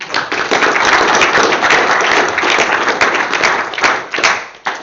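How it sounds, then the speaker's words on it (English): Applause at a tech talk event fills the room steadily, dense and loud from a seated audience, tapering off near the end. "Please give a round of applause"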